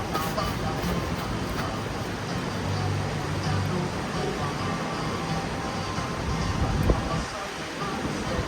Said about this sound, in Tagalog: Sarap pakinggan ng alon